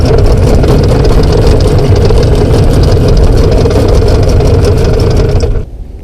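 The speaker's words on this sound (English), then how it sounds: "I'm going to motor back up" A fishing boat's motor runs loud and close in light wind, a rough, steady low rumble that continues without a break, then drops off sharply in the final half-second.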